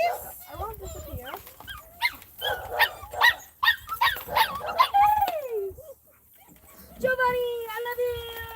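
Several puppies, Cane Corsos, yip, bark and whimper in short excited bursts close by, with a person's voice talking among them.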